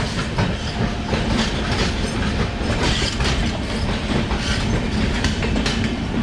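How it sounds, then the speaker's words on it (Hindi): The Kaifiyat Express passes close alongside on a main line at sunrise, a loud continuous rumble with rhythmic clickety-clack of wheels over rail joints throughout. "यहाँ से बगल से निकल रही है कैफियत एक्सप्रेस"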